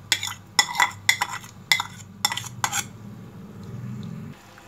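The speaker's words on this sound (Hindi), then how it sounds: "दही डालने हैं हम इसमें।" A metal spoon clinks sharply against a pot as yogurt is added and stirred into biryani masala, six or so bright strikes in quick succession before a soft, quiet rustle of mixing.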